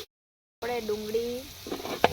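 Chopped onion hits hot oil already seasoned with cinnamon, cloves and garlic paste for a mung bean pulao, a sudden close sizzle that follows a brief silence and carries on with faint stirring and a voice nearby.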